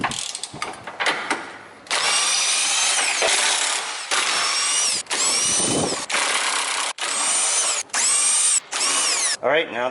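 Bursts of a power tool's whine remove 18 mm hitch bolts on a BMW X5M, repeated loud pulses separated by short pauses, with a bit of talk early on.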